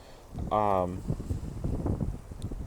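Wind buffets the microphone with a low rumbling roar, under a voice that speaks briefly.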